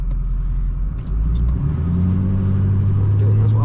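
A car driving on the road with a steady low engine rumble and road noise throughout, a brief dip around one second, then the engine note rising slightly as it accelerates, heard from inside the cabin.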